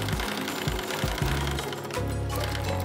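A sewing machine runs a double-stitched open seam on a seat cover for a restored BMW 2002, its steady rhythmic stitching thumps and mechanical whir filling the short stretch without voices.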